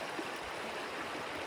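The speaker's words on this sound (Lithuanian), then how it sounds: "Jisai gerokai mažesnis, bet vis tiek vanduo šniokščia" Small creek water rushing steadily at Mission Creek, a continuous broadband wash of flowing water, moderately close and even in level throughout.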